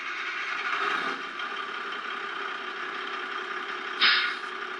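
A Tamiya Grand Hauler RC truck's sound kit plays a simulated diesel engine starting and idling, a steady mid-pitched rumble with a brief sharp hiss burst near the end, heard close with no talking.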